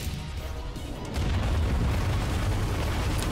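A Star Watch ion cannon blast in the Ratchet and Clank video game: a deep, loud boom that swells about a second in and rumbles on heavily to the end.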